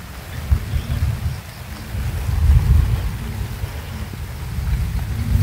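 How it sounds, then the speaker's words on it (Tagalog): Heavy rain pours down outdoors, a steady dense low roar with gusty wind buffeting the microphone, continuous and fairly loud throughout with no talking. "Malakas yung ulan mga idol."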